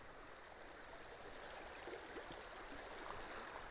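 Water rushing along a roadside ditch and pouring through a culvert, a steady, moderately faint broadband flow with no talk.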